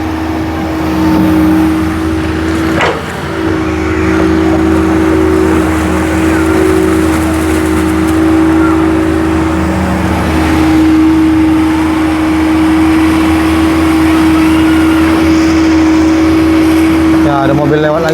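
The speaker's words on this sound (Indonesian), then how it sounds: "Ya ada mobil lewat lagi tuh." A car passes along a riverside road, its engine drone steady and loud, swelling and fading over several seconds beneath ongoing talk and surrounding work noise.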